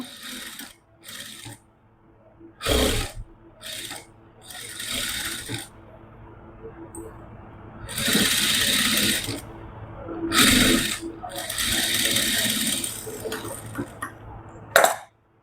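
A sewing machine stitches a kurta in short bursts, runs of rapid mechanical clatter starting and stopping, close and alone with no talk.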